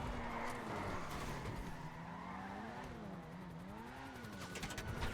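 A Dewbauchee Champion sports car driven fast in GTA 5 Online, engine revving and shifting pitch up and down with tires squealing and skidding, steady and close.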